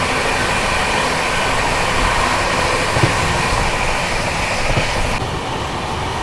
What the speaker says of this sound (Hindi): फाइनली अभी अपनी ट्रेन पहुंच रही है अलीगढ़ जंक्शन